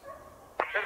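A hunting dog gives a short, sharp bark near the end of a brief moment of quiet outdoor noise during a boar hunt.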